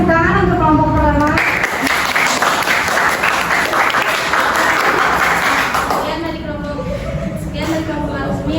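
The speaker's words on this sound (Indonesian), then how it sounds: "beri tepuk tangan untuk kelompok pertama." A vocational high school classroom bursts into loud, dense clapping for a student group after their history presentation, with talking before and after the applause.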